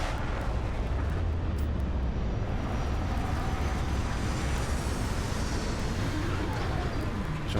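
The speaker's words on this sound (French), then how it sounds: "Capitaine, lancement de la procédure d'atterrissage." A spaceship lands in the video game Starfield with a loud, dense, continuous roar of engine rumble and rushing noise that holds steady throughout, with no talking.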